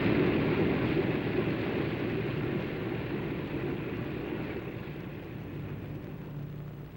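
Airplanes taking off together in formation in a film, a loud, steady engine roar that fills the whole stretch and slowly eases, with no talk over it.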